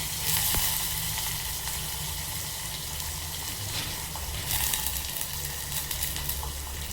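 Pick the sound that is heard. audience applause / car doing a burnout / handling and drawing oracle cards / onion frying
onion frying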